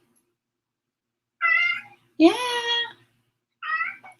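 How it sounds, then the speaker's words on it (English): A pet cat meows three times, close and clear, with a longer, louder meow in the middle; a voice is faintly present around the calls. "Ah, my kitty cat."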